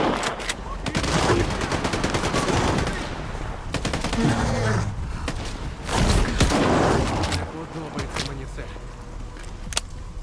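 Gunfire in S.T.A.L.K.E.R. 2, rapid bursts of automatic shots cracking in clusters across the scene, loud and close at times, with a person talking over the shooting.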